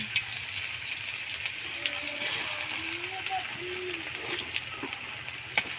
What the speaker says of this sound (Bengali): কড়াতে আর পেঁয়াজ দিয়ে দিলাম।